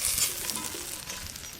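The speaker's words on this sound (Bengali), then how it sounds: "এই যে মাথাগুলো ভালো করে ভাজা হয়ে গেলে এবার তুলে নেব" Hilsa fish heads fry in hot oil in a pan, a soft continuous sizzle with faint stirring scrapes, close but quiet and without talk.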